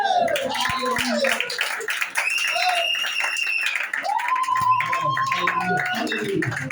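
A church congregation clapping and applauding during worship, a lively rhythmic clapping under loud singing or shouting voices, with crowd noise throughout.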